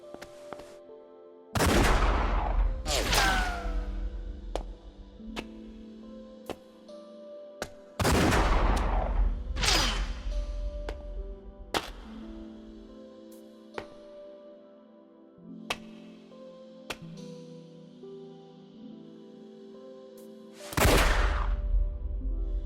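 Gunfire in the video game Like a Dragon Gaiden, with several heavy, booming shots spaced apart, each followed by ringing, metallic echoes and lighter clicks in between.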